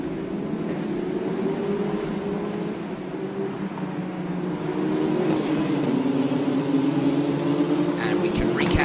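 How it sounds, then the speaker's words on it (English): F3 Asian Championship race cars pulling away on a formation lap, a steady droning engine chorus that swells slightly louder midway and holds, with commentary talking over it throughout. "So we will be getting this formation lap underway."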